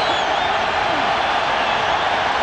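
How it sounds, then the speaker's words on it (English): A packed stadium crowd at a 1997 college football game between Nebraska and Washington roars in a loud, steady, unbroken wall of noise. "And the crowd trying to help the Husky defense."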